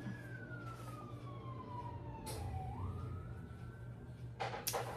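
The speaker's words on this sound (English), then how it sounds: "a sheriff just went flying down the street towards the tracks. Lights and sirens." A sheriff's vehicle speeds down a street with its siren wailing, one long sweep falling and then rising again at moderate distance over a steady low background hum; no one speaks.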